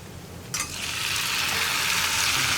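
Chili powder and onions fry in a pan for a yam stir fry, a sudden loud sizzle that jumps in and then hisses steadily and close with no talking.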